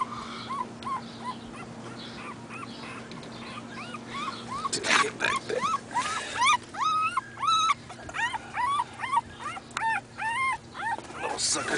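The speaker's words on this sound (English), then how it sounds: "puppies" Puppies whimper and yip in a rapid series of high, squeaky cries that grow busier and louder, with faint voices and background noise underneath.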